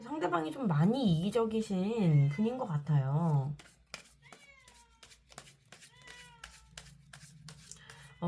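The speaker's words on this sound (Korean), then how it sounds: "저희 집 고양이가 계속 울고 있어요." A house cat meows repeatedly and loudly in a rising-falling series for about three seconds, then fainter chirps and meows continue in a quiet room while someone speaks softly.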